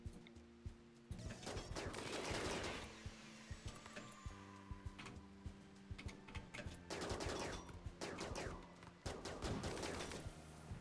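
Gunfire crackles in a RimWorld firefight, with bursts of rapid shots in several clusters, sharp repeated reports layered over a steady low hum.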